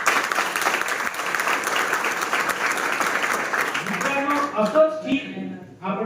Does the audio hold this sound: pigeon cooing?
no